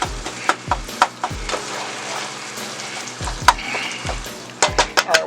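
Ground beef fries in a pan, a steady sizzle broken by a series of sharp scraping knocks as a utensil stirs and breaks it up, close by.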